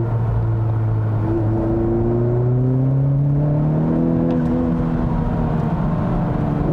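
A 2020 Honda Civic Type R in Plus R mode, its engine growl boosted through the audio system, droning steadily from inside the cabin, with rising and falling tones as the revs climb and shift.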